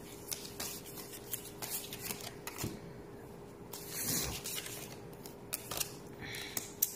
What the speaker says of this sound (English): Let's pull two cards per position.